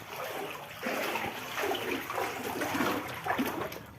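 Floodwater that has entered a house sloshes and splashes close by, continuously, with the churning swelling at moments as someone moves through it.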